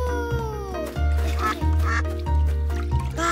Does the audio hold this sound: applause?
no